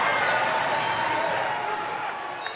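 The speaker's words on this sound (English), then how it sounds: "Crowd roars." A crowd at a high school boys' varsity basketball game roars in a loud, steady, dense wall of noise that eases slightly toward the end, with voices mixed throughout.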